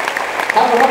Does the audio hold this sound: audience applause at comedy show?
yes